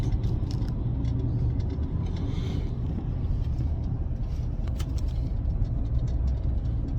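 A car drives along a road, with a steady low rumble of engine and tyre noise continuing throughout, close and fairly loud with no one speaking.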